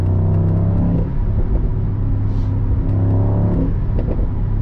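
A Mercedes-AMG SL63 with 585 hp accelerates hard in Sport Plus on the Autobahn, its engine note rising through two long pulls with a brief dip at a gearchange, loud and close from the cabin.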